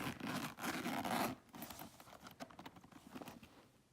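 A zipper runs on the inner compartment of a Louis Vuitton Dandy MM bag in Epi leather, a close, brisk rasp followed by softer scratchy handling of the bag.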